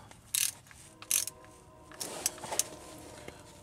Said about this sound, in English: When snugging the oil plug, and I say this all the time, there was no need to over tighten it.